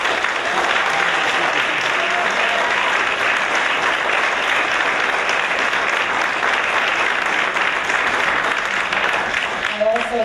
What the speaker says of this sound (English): Students, please applaud the faculty.